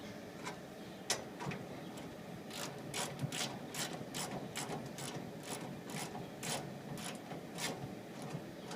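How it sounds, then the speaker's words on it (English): Steady ratchet clicking rattles in repeated strokes while bolting up a Briggs & Stratton 20KW whole-house generator, close and fairly quiet over a low background hum. "Okay, let's bolt this baby up."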